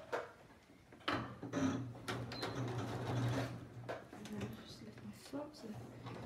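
A sewing machine stitches a line along homemade bias binding fabric, a steady low mechanical hum with clicking running through most of the stretch, close by and under a person's talk.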